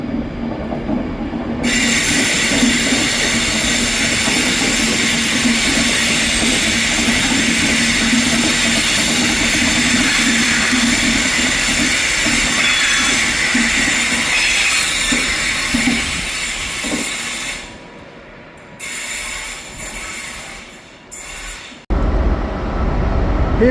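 Class 66 diesel locomotive hauling a freight train of sleepers through Carlisle, rumbling close by with continuous wagon noise, wheel squeal and clickety-clack for about twenty seconds before the last wagons pass and it drops away abruptly.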